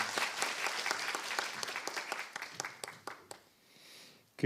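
A crowd at a school entrance ceremony applauds steadily, the clapping thinning into a few scattered claps before fading out near the end.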